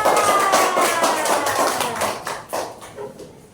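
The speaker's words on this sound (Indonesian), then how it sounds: "Tepuk tangan untuk kelompok kita." Classroom applause for a student group, with a burst of hand claps and taps that starts loud and thins out toward the end, close by.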